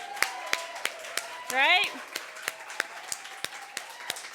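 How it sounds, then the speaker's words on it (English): A few sharp, isolated claps at a steady spaced rhythm ring out at a tech networking dinner event honoring the wait staff, with a brief spoken interjection partway through. "let's give a round of applause for our wait staff tonight."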